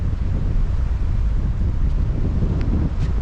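Strong storm wind on a beach, a constant heavy low roar and buffeting on the microphone, with surf blending into the rush and no voices.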